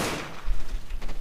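A burst of gunfire from Left 4 Dead 2 opens sharply and is followed by a few dull, low thumps during a short, noisy moment.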